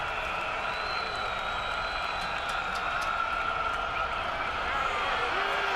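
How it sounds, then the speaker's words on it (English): A football crowd at Commonwealth Stadium roars on third down, a dense, steady wall of cheering and applause that holds its loudness throughout. "this Commonwealth Stadium crowd coming to life now on third down"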